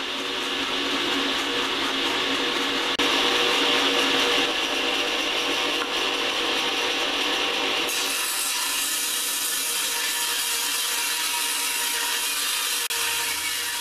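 A table saw trims wooden ribs to a 2.5-inch width, the stock fed against the fence with a push stick, a continuous loud whining cut that shifts pitch partway through and then carries on steadily.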